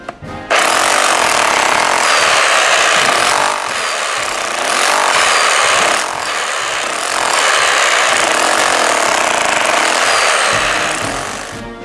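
A demolition hammer chisels into a floor to dig out space for a floor drain, hammering loudly and continuously up close for the whole stretch, with brief dips in intensity between bursts.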